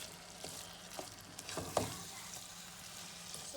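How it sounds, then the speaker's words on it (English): Cabbage sautés with spices in a pan for Moroccan zaalouk, a quiet sizzle broken by scraping stirs and utensil knocks, with no voices. "we saute. Add in the cabbage. So now we just mix it in until like it's evenly incorporated"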